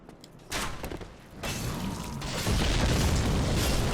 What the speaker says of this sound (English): the giant upstairs who is throwing these fire bombs, these huge, gigantic fire bombs